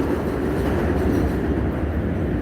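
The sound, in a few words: loud passing train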